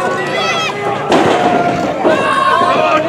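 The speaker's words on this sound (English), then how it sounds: "Nice backbreaker." A wrestler's backbreaker slam lands in the ring as a single heavy broadband thump, set against a steady crowd roar while a commentator talks throughout.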